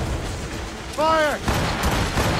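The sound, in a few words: cannon fire in Assassin's Creed Rogue video game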